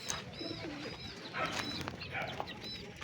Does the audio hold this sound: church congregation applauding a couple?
no